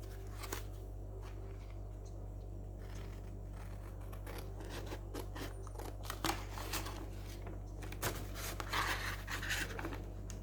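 Scissors snip and slide through paper playing cards for an altered junk journal craft, giving repeated soft cutting clicks and rustles close up over a steady low hum.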